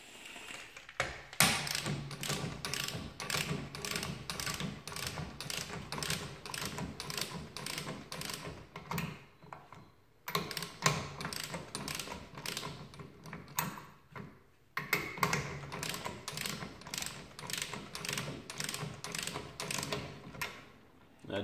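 Ratchet wrench turning bolts on BC Racing BR Series coilovers, a rapid regular clicking in long runs, close and fairly quiet, pausing briefly twice before resuming.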